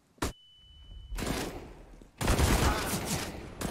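Bursts of gunfire in a Counter-Strike match on the Nuke map, a sharp early shot followed by sustained loud volleys and a final burst, with a brief steady tone in between.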